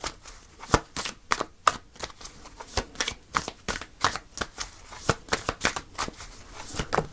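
Tarot cards are shuffled by hand on a table, a close series of crisp riffling bursts and slaps in an irregular rhythm with no talk.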